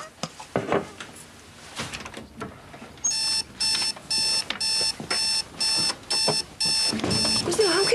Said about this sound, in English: Where's the alarm key?